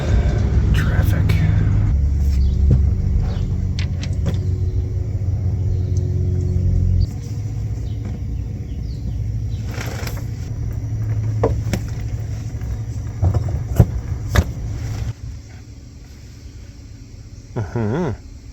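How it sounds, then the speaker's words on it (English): Road traffic rumbles steadily throughout, a low continuous drone of passing vehicles with occasional brighter swells, one easing off near the middle and another toward the end, with faint voices in the background. "Traffic."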